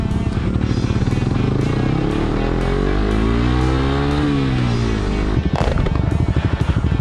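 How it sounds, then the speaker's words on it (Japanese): A Suzuki GSX-R125 motorcycle engine sounds loud and close while riding. Revs rise and fall in sweeping pitches through gear changes, with a crackly, pulsing exhaust and wind buffeting. "のりさんからお借りしましたスズキの GSXR125 でございます。"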